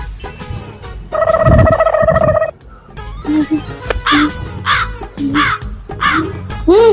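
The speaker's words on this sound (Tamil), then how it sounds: "அட இங்க ஒரு காக்கா இருக்கு" A crow caws loudly and close by in a string of harsh, repeated calls, coming in short bursts with brief gaps between them.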